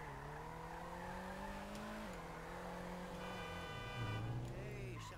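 A car in GTA V drives with a droning engine whose pitch rises and dips, then tires squeal in a skid near the end, loud and continuous.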